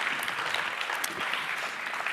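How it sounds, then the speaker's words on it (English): An audience at the closing event of a circular design training programme claps steadily for a couple of seconds, a soft, even patter of many hands heard from a distance, with no voices over it. "now let's give an applause for Anne"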